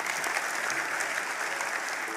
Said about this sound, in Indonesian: Yang percaya Tuhan kasih tepuk tangan bagi Tuhan kita.